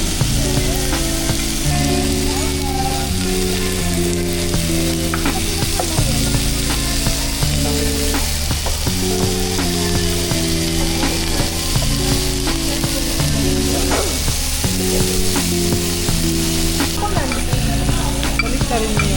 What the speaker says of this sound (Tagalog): Baliktarin mo yung meat para maluto.